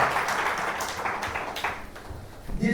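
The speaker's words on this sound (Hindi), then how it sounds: "एक बार जोरदार तालियां बजा दें" Applause from an audience at a speech event, a dense wash of many hands clapping at once that gradually thins out over a few seconds.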